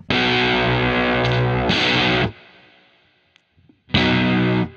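An electric guitar played through an Octo Puss octave-up pedal placed after a distortion pedal gives loud, thick distorted chords with an upper octave texture, two sustained strums ringing out and cut off, then another after a brief gap.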